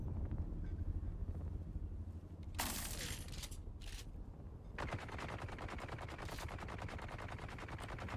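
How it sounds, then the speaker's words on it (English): A shooting range in Dune: Awakening produces sharp bursts of rapid gunfire, first as a loud cluster of shots and then as a long, fast, continuous rattle, over a steady low background rumble with no talking. "Why is there a shooting range there?"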